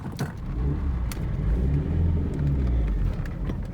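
A Toyota Corolla 1.6 pulls away in first gear with a low, shuddering engine rumble that rises and surges unevenly, close and fairly loud with a few small clicks, and no talking.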